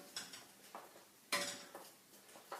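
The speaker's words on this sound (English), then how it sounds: "Tip your mixture swiftly into that pan, stirring as you go." Carbonara egg mixture goes into a pan and gets stirred, giving light clinks and scrapes of utensil on metal in a few irregular bursts, with one sharper clatter in the middle, close and fairly quiet.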